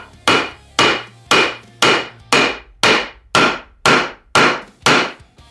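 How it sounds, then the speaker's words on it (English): Wooden pieces from store lumber are knocked together with a wooden block during a woodworking build: about ten sharp, evenly spaced taps, close and fairly loud, each ringing briefly before the next. "I'm going to use this block here to set my two pieces together."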